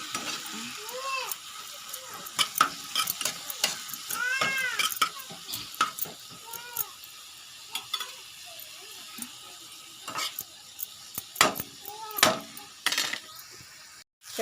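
Oil sizzles in a pan as gongura is fried for chutney in village style: an ongoing crackle with scattered sharp utensil clinks and stirring, and a cat meowing several times in the room.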